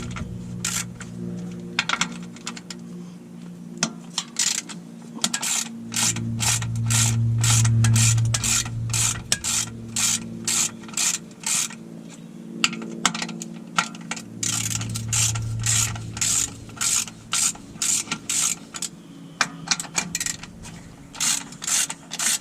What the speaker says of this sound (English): I'm gonna start removing these bolts in the back here